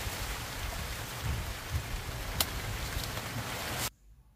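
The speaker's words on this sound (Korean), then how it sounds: "오, 갑자기 비가 옵니다." Sudden rain shower pouring down on a Shine Muscat grape vineyard, a dense steady hiss of heavy rainfall close by that cuts off abruptly near the end.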